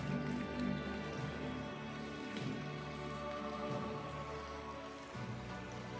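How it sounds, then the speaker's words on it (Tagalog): Rain falls steadily on a surface, a soft continuous patter at low level with a droning hum underneath and no talking. "Umuulan na ba? Sama talaga ng panahon, no?"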